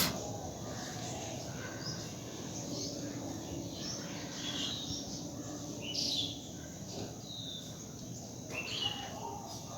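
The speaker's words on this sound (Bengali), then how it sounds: "সকালবেলা ঘুম থেকে উঠে পাখির এই কিচিরমিচির শব্দগুলো শুনতে খুব ভালো লাগে" Morning birdsong outdoors: scattered faint chirps and tweets over a low, steady background hum, distant and quiet.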